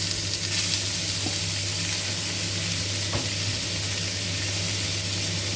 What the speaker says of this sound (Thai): เราจะเอาสามชั้นลงไปในกระทะแบบนี้นะคะ